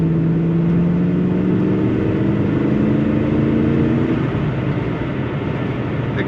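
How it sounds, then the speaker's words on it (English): A 1992 Chevrolet Corvette coupe with an automatic transmission accelerates from inside the cabin, its engine note rising steadily in pitch for about four seconds before leveling into a constant road and engine drone. "Accelerates as you would expect."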